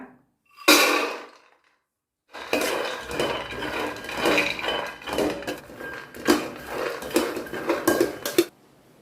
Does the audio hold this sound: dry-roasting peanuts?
yes